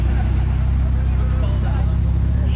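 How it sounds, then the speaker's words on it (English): A group of Ferrari supercars, a black Portofino, a green Pista, an F12 TDF and an orange F8 Tributo, roll in together at a supercar rally, their engines a loud, steady rumble close by while a voice talks over them. "He's got the black Portofino, the green Pista, the F12 TDF, and his orange F8 Tributo all rolling in together."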